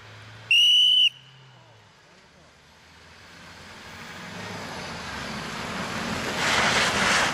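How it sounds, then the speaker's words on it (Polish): A sharp, loud whistle blast lasting about half a second sounds at a KJS Barbórka 2011 rally stage in Białopole, followed by a wind-buffeted rush of noise that steadily builds louder toward the end. "Wojtek, gdzie gwizdek?"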